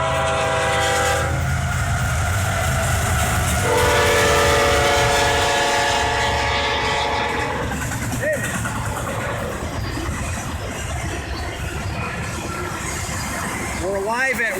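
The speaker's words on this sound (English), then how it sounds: "We have an eastbound CSX train coming." Eastbound CSX Q010 freight train passing Westfield Railfan Park in Westfield, New York, with a loud, sustained horn in the opening seconds, then steady rumble and rolling wheel noise close by, with people talking nearby.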